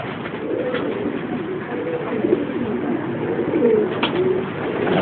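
Pigeons coo close by in a loft, soft rolling calls repeating over a constant low murmur, with a few brief sharper notes rising above the steady background.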